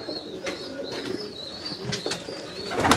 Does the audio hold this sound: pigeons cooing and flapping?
yes